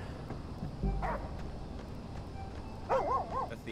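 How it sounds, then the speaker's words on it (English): A dog in the video game Oxenfree 2 gives a single short bark, then a quick burst of yips a couple of seconds later, fairly faint over a hissy, low game ambience. "Did you hear that? Whose dog was that?"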